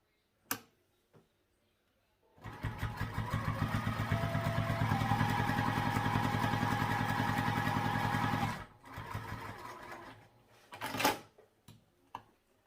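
A sewing machine runs a continuous stitching burst of about six seconds, sewing a seam at an eighth-inch allowance on a Royal Pixie H2O 2Go sling. A few faint clicks come before it and scattered handling taps follow.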